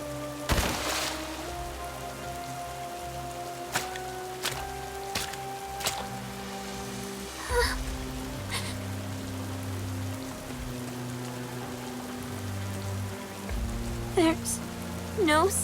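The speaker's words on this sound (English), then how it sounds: "What the? It's raining." Rain patters on surfaces in the video game Nikke: Goddess of Victory, a soft continuous hiss with scattered droplet taps, broken by sharp game sound effects, brief tones and low musical swells.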